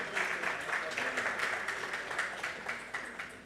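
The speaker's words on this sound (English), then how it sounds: "Let's clap for them." A crowd at a college of health sciences 25th anniversary launch applauds, a steady, moderately distant patter of clapping that slowly fades.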